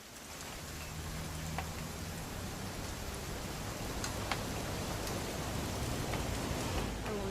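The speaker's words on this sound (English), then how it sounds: "It's gonna rain the whole weekend, isn't it?" Steady rain in the video game What Remains of Edith Finch pours continuously in a wet, hissing wash of drops, with a few brighter individual drops and no voices over it.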